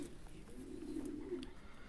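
Soft, low racing pigeon cooing in a steady murmur, faint and somewhat distant against a constant outdoor hum.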